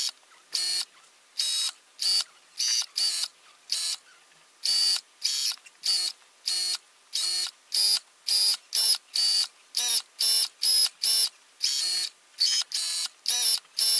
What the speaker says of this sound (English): I am just sewing right on the folded edge here.